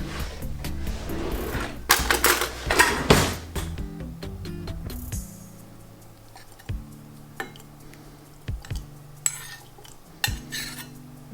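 A small spoon stirring soup, with clattering and clinking against a pot or dish, busy at first and then sparser taps over a low hum, no talking.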